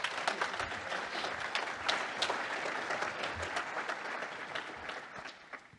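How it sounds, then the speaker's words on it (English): A conference audience applauding a speaker at a software talk, a broad, sustained wash of many hands clapping, moderately distant and fading slightly toward the end. "Can we please give him a massive round of applause?"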